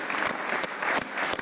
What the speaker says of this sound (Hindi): फखर जमान के लिए भी तालियां मैं देना चाहता हूं।